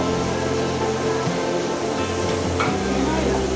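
Ingredients sizzle and fry in a pan for a Rayalaseema-style chenikkayala pachadi, a constant crackling hiss with occasional stirring scrapes, close and steady.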